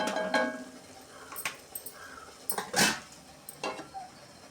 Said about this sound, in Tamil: இப்போ நம்ம மூடி வச்சிடலாம்